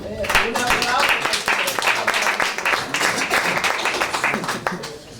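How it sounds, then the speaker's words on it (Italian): An audience at an afternoon session applauds with steady, dense clapping that carries on for several seconds while voices are heard over it. "Un applauso ad Anita."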